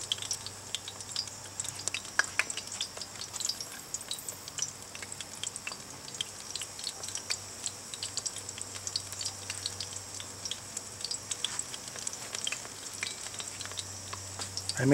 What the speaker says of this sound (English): they seem to be frying okay.